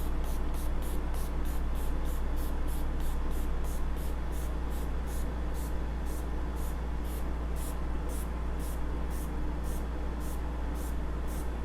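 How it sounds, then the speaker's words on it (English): A steady, hissing spray of wax onto upholstery fabric runs continuously, with rapid regular ticking pulses layered over a constant low hum. "I'm just gonna easy peasy spray wax it on."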